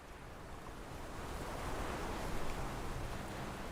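Ocean waves in the game Love and Deepspace wash in as a soft, continuous surf hiss, gently swelling and receding, with no voices.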